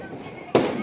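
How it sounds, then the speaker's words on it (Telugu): A Lakshmi bomb firecracker goes off during Diwali night celebrations: one sudden, loud, close blast with a rumbling tail, after a short stretch of background murmur and faint voices. "లక్ష్మీ బాంబులు అండి ఇవి"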